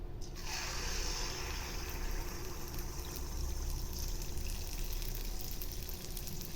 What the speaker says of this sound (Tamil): இப்போ கொஞ்சமாக எடுத்து எண்ணெயில் ஊற்றிடலாம்.